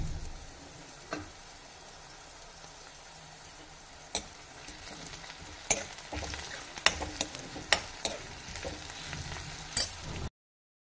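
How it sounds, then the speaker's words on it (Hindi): Onion and grated ginger frying in a kadhai, a soft sizzle beneath repeated sharp spatula scrapes and clicks against the metal, growing busier toward the end. "मैं प्याज को हल्का सा भूनने के बाद अदरक को डालूंगी।"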